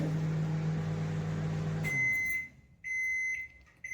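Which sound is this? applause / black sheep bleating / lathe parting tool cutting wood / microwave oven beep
microwave oven beep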